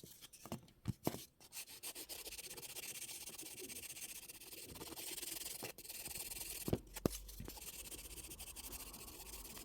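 Fine-grit sandpaper rubbed gently on a wire-wrapped ring: a soft, continuous scratchy hiss, faint and close, broken by a few small clicks and taps, with no talking.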